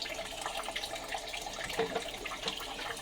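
Hot water runs steadily into a kitchen sink during dishwashing, a continuous splashing rush with small clinks, close and moderately loud with no talking.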